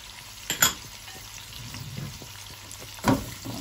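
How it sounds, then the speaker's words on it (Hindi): Mutton sizzles in a pan for palak gosht as spices, ginger paste and crushed green chilli are stirred in. Two sharp, close scrapes of the spoon stand out over a low, steady frying hiss, and no one speaks. "सारे मसालों को गोश्त में मिक्स करेंगे।"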